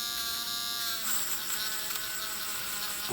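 A wire wheel stripping paint from a Corgi Juniors VW hotrod toy car, a continuous high whirring buzz with a rougher grinding edge as the metal body meets the bristles, close and steady.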